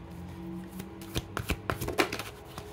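Tarot cards shuffled by hand, a series of crisp riffling flutters and soft slaps building up, close and fairly quiet, ending with a brief snap as a single card is drawn.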